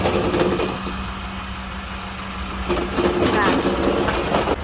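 A van engine fitted with a newly installed exhaust muffler idles steadily at close range, a low continuous hum with a mid-clip dip and rise, while someone talks over it.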